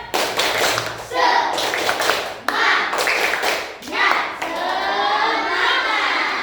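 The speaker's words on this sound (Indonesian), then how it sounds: "coba tepuk semangat." Schoolchildren in a classroom perform a rhythmic spirit clap, bursts of patterned clapping and tapping broken by brief pauses, with children's voices chanting along close by.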